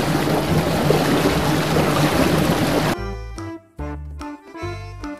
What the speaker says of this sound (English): Inflatable boat.